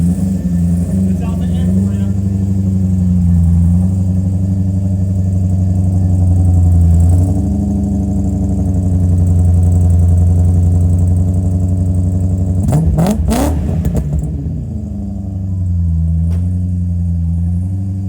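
A BMW M car engine drones steadily up close with a low rumble, swelling slightly mid-way, then a sharp burst of revving and crackle near the end; a voice speaks over it.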